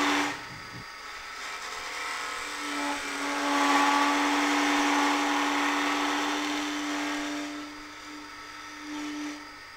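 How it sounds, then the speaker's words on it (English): A lathe tool vibrates and chatters during a heavy cut, giving a steady whining buzz that swells louder and rougher in the middle before easing, close and continuous with no talk. "if too heavy a cut is taken, it can lead to vibration and chattering, as we can hear now"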